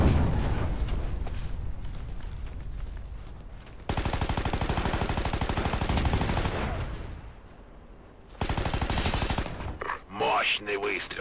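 Gunfire in the video game Ghost Recon Advanced Warfighter 2 during a firefight at a supermarket: long, dense bursts of rapid automatic fire, loud and close, with a brief lull between them and game audio around.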